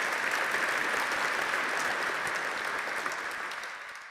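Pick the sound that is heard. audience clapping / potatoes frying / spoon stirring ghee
audience clapping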